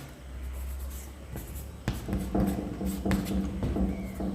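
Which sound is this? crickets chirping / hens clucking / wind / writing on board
writing on board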